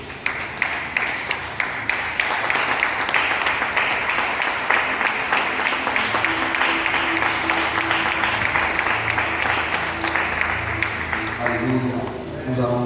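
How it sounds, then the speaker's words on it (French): A church congregation applauds and cheers loudly in continuous, dense clapping as worship music swells. Voices call out over it, and near the end the clapping thins into sustained musical tones. "Est-ce que tu peux te lever et acclamer le Seigneur?"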